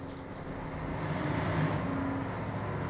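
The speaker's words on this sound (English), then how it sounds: "we push and hold the start button until we hear the engine start and run" A community standby generator engine, started by hand from switchgear in manual mode, runs at a steady, even drone with a low hum throughout, close and continuous with no voices.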